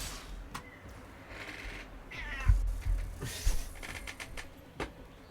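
A cat meows close by, a few drawn-out cries spaced over a few seconds against a quiet room with faint creaks and bumps.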